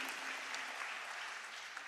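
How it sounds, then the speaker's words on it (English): Applause from a church congregation, a steady, dense wash of many hands clapping at moderate distance, quiet and even throughout with no voices over it. "You can give the word of God a round of applause."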